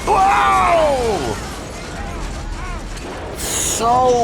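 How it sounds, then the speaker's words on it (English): An explosion and crash sequence from the 1994 action film Speed plays with rumbling blasts and sweeping whooshes, while voices react and talk over it. "That is so much explosion."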